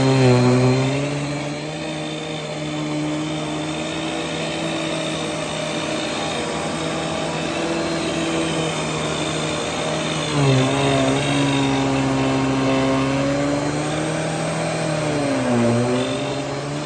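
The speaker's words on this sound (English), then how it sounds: "we're gonna stop the carpet cleaning here for a second" A Riccar R25D upright vacuum cleaner runs on carpet with a steady, loud motor whine and hum, its pitch dipping briefly a couple of times as it is pushed.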